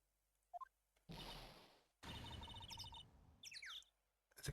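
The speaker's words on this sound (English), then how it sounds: "Why am I hearing a bird chirping?" Bird chirping in the courtroom video game Phoenix Wright: Ace Attorney, a few short bright tweets and trills cutting between bursts of game noise, heard close and clear with no talk.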